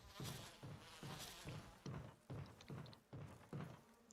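Rhythmic, repeated buzzing pulses of bees in the Resident Evil Remake video game, about eight regular swells, steady and close with no talk.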